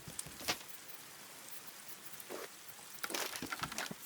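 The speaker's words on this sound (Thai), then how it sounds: "ฝนตกอีก เออเลย เฮ้ยฝนตกเหรอ" Rain falls in Raft, a game of drifting at sea on a raft. It makes a soft, steady hiss with scattered louder drop-like bursts. The patter swells in patches toward the end, and no voice is heard.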